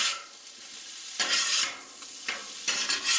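Pork fried rice stirred and scraped on a 36-inch Blackstone griddle, loud bursts of spatula scraping over a steady background sizzle, in three or four sweeps.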